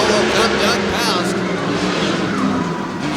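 A 1974 Ford stock tough truck races against a Grand Cherokee on a dirt track in Bloomsburg, Pennsylvania, engines roaring steadily under a commentator's continuous talk.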